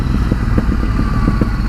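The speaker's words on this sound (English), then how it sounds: "Oh, listen to this exhaust pipe popping." A 2019 Ducati Scrambler 1100 motorcycle touring roads in Tuscany, its engine running loud and steady with a low rumble and irregular sharp pops and crackles from the exhaust, close by with no talk.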